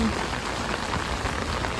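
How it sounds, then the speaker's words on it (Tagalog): Heavy rain pours down in a dense, steady roar of drops drumming on surfaces, constant and loud throughout with no pauses. "Oh, grabe kalakas ang ulan."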